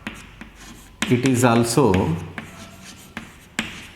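Writing on a board during a math lesson makes soft scratches and sharp taps before and after a brief spoken phrase, close and fairly clear.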